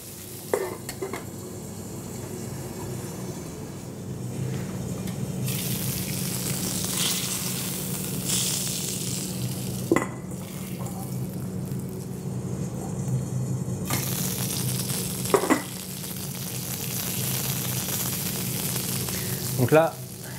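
Steady sizzling of duck breast frying in a pan, a constant crackle throughout with a few soft clinks of utensils now and then.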